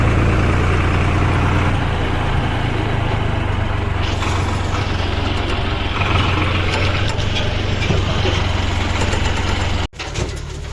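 A JCB 3DX backhoe loader loads soil into a Swaraj tractor trolley near a river, its diesel engine chugging loudly and steadily close by, with a brief dip and knock near the end.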